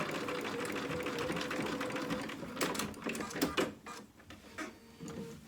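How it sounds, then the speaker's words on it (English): A sewing machine runs steadily while top stitching a fabric D-ring holder for a dog outfit, a close mechanical whir that breaks into quicker stitching bursts before slowing near the end. "And then sew back top stitch along the other side,"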